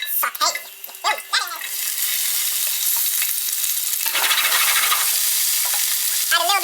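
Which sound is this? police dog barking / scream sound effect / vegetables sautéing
vegetables sautéing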